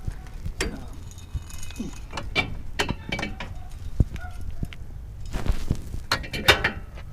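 Blue Ox tow security cables are handled beside a Jeep, giving scattered metallic clinks, rattles and knocks at an irregular pace, close and moderately loud, with no talk.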